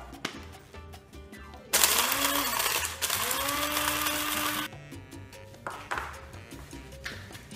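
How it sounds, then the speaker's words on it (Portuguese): An electric coffee grinder grinds dried chili peppers into calabresa flakes, giving two loud whirring bursts of several seconds each. Quieter clatter comes before and after them. "Esse aqui é um moedor de grãos de café."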